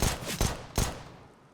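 Dual pistols fire in Counter-Strike on the Nuke map, three quick sharp shots in rapid succession, close and punchy, then a fading tail.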